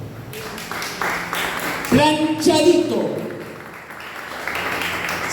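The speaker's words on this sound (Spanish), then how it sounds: "Dale un aplauso." Church congregation breaking into a short burst of applause partway through, a loud round of clapping that swells and fades while a preacher keeps talking over it.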